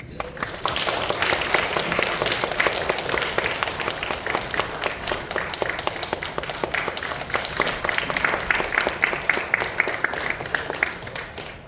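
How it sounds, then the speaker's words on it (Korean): Congregation applause in a Korean church service after a new-member course certificate is presented, a steady crowd of claps starting after a brief pause and continuing evenly, moderately loud, before fading near the end. "우리 한번 박수로."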